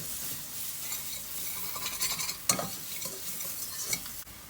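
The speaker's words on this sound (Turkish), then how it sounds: "Salçamızı da iyice kavuracağız." Tomato paste frying in a pan for soup, giving a steady close sizzle and crackle with faint stirring sounds and a brief louder spatter partway through, without any talking.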